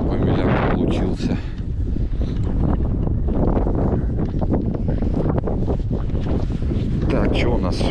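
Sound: cold wind blowing on a beach

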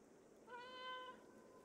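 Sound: cat meowing in the video game Stray

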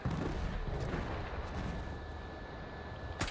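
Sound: artillery fire in video game Battlefield 1

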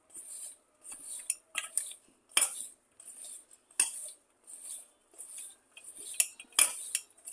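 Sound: mixing okra pieces with masala in a bowl

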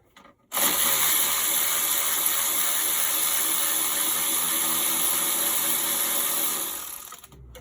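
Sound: ratchet turning bolts while removing a BMW E39 alternator

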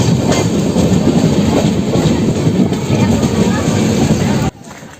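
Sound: Dhauli Express train leaving Bhubaneswar station

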